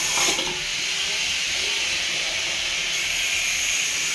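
Mutton poured into a hot pan sends up a loud, continuous close sizzle and hiss that starts with a brief burst and then holds steady.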